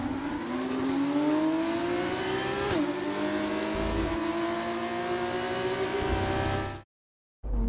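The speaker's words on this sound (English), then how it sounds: "Here's our winner pulling their Van Amersfoort into Parc Fermé then." F2 Van Amersfoort race car in F1 24 rolling into parc fermé, its engine droning steadily with gear-change pitch shifts and a whining drivetrain, then cutting abruptly to near silence before a faint return.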